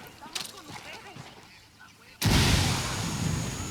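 A frag grenade in the video game Ghost Recon Wildlands goes off as a sudden loud blast after quieter game sounds. A long rumbling roar follows the blast, and a voice is heard earlier.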